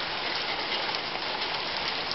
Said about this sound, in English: we've got heavier rain.